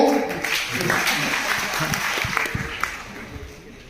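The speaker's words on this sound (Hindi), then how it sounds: "ताली बजा" An audience of students claps during a trading-strategy class, a slightly uneven burst that fades a little toward the end, with a voice faintly present underneath.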